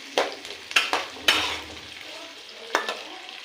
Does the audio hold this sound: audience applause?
no